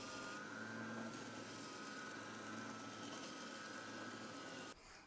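A workshop machine runs with a steady loud hum and whine while wooden picture-frame clamp pieces are shaped on a bandsaw and sander, continuous and close, then cutting off near the end.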